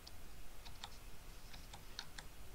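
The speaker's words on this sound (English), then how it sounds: "We can use our keyboard to finish those configuration." Soft, sparse keystrokes on a computer keyboard while configuring a Windows 11 installation, a few quiet irregular clicks tapped one at a time over faint background hiss.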